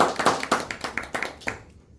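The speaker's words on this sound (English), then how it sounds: "So give me a round of applause for" Scattered hand claps from a small audience after a tribute at a talk on the 1MDB scandal, a handful of distinct near claps in uneven rhythm that thin out and stop after about a second and a half.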